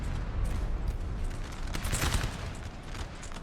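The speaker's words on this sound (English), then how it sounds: "Massive howitzer battery." A massed howitzer battery fires in Napoleon Total War, a dense, continuous rumble of distant cannon blasts blending into a steady roar with a few sharper reports.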